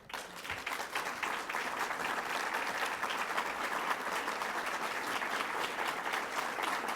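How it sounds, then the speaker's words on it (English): Sustained applause from an audience at a 2017 city address, steady dense clapping that fills the whole stretch without a break. "They're applauding."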